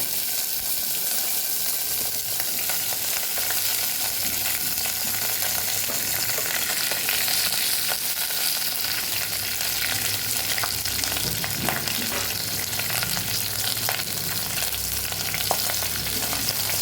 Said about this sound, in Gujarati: હવે આપણું તેલ ગરમ થઈ ગયું છે તો એમાં આપણે ગુવારને ઉમેરી દેવાનો છે